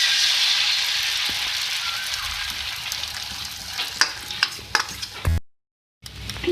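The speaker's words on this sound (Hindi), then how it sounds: "अच्छा, हम एग जो है फ्राई करेंगे। मैंने पैन में ऑयल लिया है" Eggs fry in oil in a pan with a strong, close sizzle that gradually fades. Sharp clicks and taps of a spatula against the pan follow, then a brief total silence before the sizzle returns.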